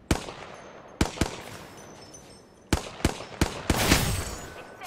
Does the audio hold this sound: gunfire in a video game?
yes